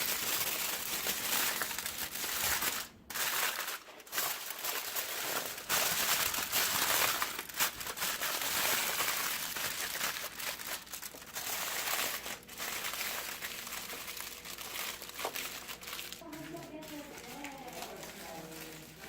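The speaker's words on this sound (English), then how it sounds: "Wrap it in foil." Aluminium foil crinkles and crumples steadily as it is wrapped around a tri tip steak, a dense close rustling that goes on for many seconds, with brief pauses and voices talking near the end.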